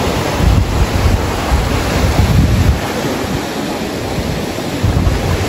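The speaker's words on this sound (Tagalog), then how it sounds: "Grabe ang tatas ng alon dito." High ocean waves crash and surge onto the shore in rolling swells, with heavy wind buffeting the microphone throughout and no voices.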